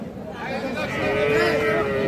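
Cattle lowing at a rural cattle market where young bulls, heifers and calves are being sold, a drawn-out moo rising over a busy, noisy crowd background; faint voices underneath.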